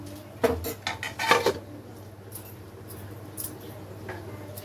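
A lid clatters onto a cooking pan of paneer makhana butter masala, giving a few sharp metallic knocks and rattles up close, followed by quiet kitchen ambience with faint clinks and a low steady hum.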